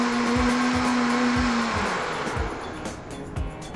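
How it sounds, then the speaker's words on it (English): A Vitamix blender runs on its lowest speed, position 1, mixing flour, sugar and salt. Its loud whirring motor holds steady for under two seconds, then winds down and fades. "we're going to mix those all together for a quick second. So I put them on position 1."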